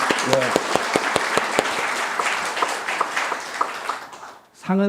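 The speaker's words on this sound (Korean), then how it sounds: "박수 한번 쳐주시죠" A church congregation gives the choir a round of applause at a Sunday service, steady clapping with a few sharp individual claps that fades out before a voice starts talking.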